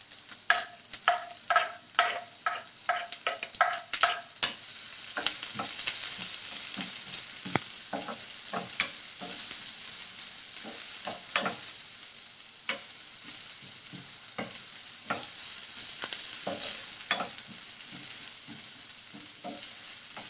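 Onion sautéing in a frying pan for a quick home dish, a steady sizzle broken by sharp clatters and stirring scrapes, with a run of quick taps early on, close and moderately loud with no talking.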